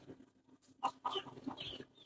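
Chickens and a rooster in a hot backyard coop give scattered short clucks and squawks, faint and somewhat distant over quiet background.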